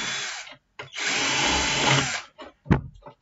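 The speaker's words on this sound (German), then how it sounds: "das haben wir jetzt auf 7 mm aufgebohrt." Power drill boring out the plastic of a Bruder MAN TGS model truck to 7 mm, a close whirring burst lasting over a second between short starts and stops, without talking.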